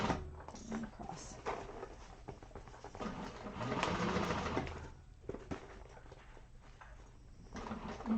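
A sewing machine stitches across a bag in a steady, close whirring run that rises briefly in the middle, with small pauses and handling clicks, and a voice speaking softly throughout.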